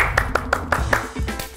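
Rhythmic hand clapping, about seven or eight crisp claps in quick steady succession, close and loud, mixed with a voice talking over them.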